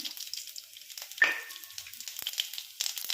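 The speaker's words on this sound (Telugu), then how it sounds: "తాలింపు పచ్చెనగపప్పు, ఆవాలు, మినపప్పు, జీలకర్ర, ఎండుమిర్చి వేస్తున్నాను" Chana dal, mustard seeds, urad dal, cumin and dried red chillies sizzle quietly in hot oil, a soft crackling hiss with a few sharp pops and spits.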